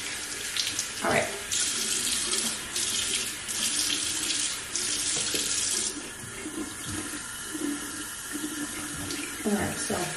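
Hot water runs steadily from a bathroom tap for a morning skincare wash, a continuous hiss and splash with brief changes in flow, while a person speaks briefly nearby.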